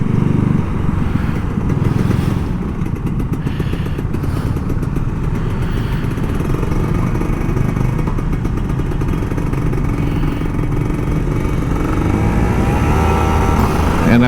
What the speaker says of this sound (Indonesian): Enaknya ngegas pagi-pagi tuh